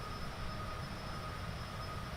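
An aircraft engine in the Tailstrike Air World Tour flight game gives a steady, even drone that holds at a constant level throughout, with no voices over it.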